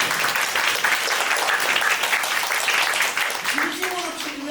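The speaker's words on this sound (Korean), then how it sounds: "이럴 때는 박수 한번 치면 센스 되는 거예요" A church congregation applauds at a Christmas Eve service, with dense clapping from a crowd that fills the room and trails off near the end as a voice begins.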